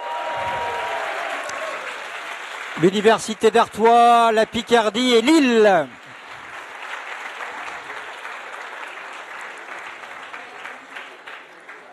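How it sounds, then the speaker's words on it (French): Crowd applause at a Paris 2024 Olympic and Paralympic presentation as local universities are announced; someone speaks loudly over the clapping for a few seconds midway, and the applause continues steadily on both sides of his voice. "on peut applaudir encore plus fort"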